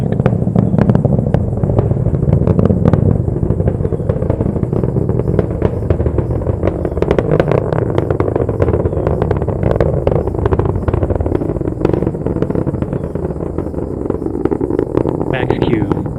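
A SpaceX Falcon 9 rocket climbs away after launch from Florida, its deep crackling roar rumbling continuously and loudly throughout, with people talking over it.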